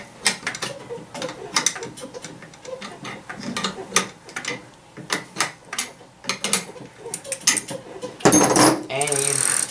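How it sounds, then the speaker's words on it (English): Go Glider bike pedals being tightened by hand with a tool: close, repeated ratchet-like clicks and metallic ticks in an irregular rhythm, ending in a brief louder rushing burst. "Just finishing up tightening these pedals and get them on there nice and tight."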